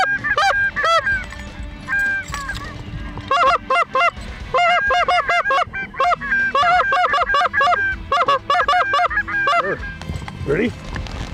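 Geese on the Manitoba flyway honk in loud, close bursts, many birds calling over one another in ragged clusters with short pauses between, over a low background rumble.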